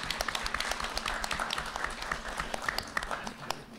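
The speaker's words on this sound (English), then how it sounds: "So please give Ethan a big round of applause." An audience at a cartoonist event applauds, a steady wash of many hands clapping at moderate distance. A few sharper individual claps stand out, and the sound stays even throughout.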